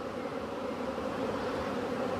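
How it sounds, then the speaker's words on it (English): A honeybee swarm buzzes around hive frames, a steady, dense drone of many bees close by, holding level throughout with no voices. "They're not very happy bees then."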